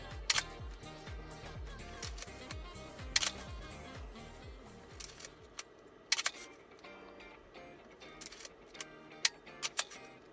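A Canon FT film camera with a failing slow-speed shutter governor buzzes in rapid ticking bursts for several seconds, then stops, with sharp clicks of the shutter and mirror scattered around it; close and clear, no voices.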